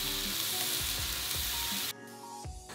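Raspberries and sugar hitting a hot pan, a bright steady sizzle with a few soft knocks, then the sound drops abruptly to a quieter hiss.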